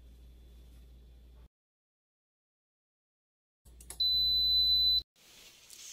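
Instant Pot Duo electric pressure cooker beeps when cooking is finished: a loud, steady high-pitched electronic tone lasting about a second, following quiet appliance hum, heard alone with no talk.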